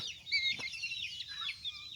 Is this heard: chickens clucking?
yes